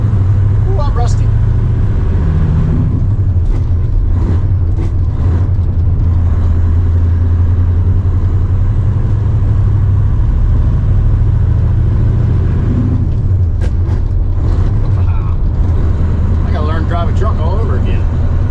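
A truck engine running during harvest, a loud steady low rumble filling the whole span with a slight rise in revving, while someone talks over it now and then.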